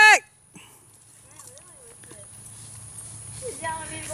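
Paso Fino and Tennessee Walking Horse hooves clip-clop softly along a trail ride after a schooling show, light scattered hoofbeats under people talking and calling out, with a dog faintly present.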